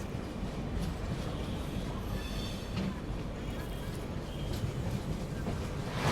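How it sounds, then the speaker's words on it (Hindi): The Magadh Express races along the main line at high speed, giving a continuous, dense rumble of wheels on rails with faint squeals and rattles, heard steadily from on board. "जबरदस्त रफ्तार से भागती हुई फिलहाल अपनी मगध एक्सप्रेस"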